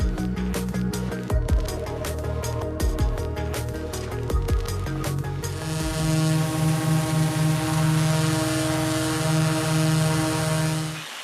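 A drone in flight carrying a two-way communications audio payload, with a steady tonal rotor drone and broadcast sound at first broken by sharp clicks and bursts, then settling into a loud continuous hum.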